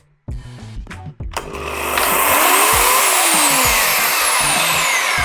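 A Procraft corded electric chainsaw is switched on with a few clicks and handling knocks, then the motor spins up to a loud, steady high-pitched whine that carries on alone, close by.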